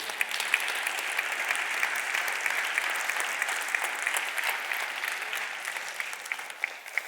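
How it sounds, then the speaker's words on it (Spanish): Church congregation applauding during a Spanish-language service, a dense, steady clatter of many hands that keeps going for several seconds with a few voices mixed in. "Denle un aplauso fuerte al Señor."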